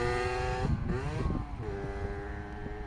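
A 90cc two-stroke dirt bike engine idles and stutters as it bogs out, its uneven note sagging and recovering over a steady running rumble, close and loud with no talking.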